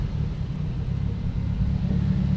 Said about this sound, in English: the car comes right back down to a good idle